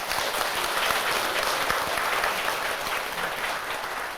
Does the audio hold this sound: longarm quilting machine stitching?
no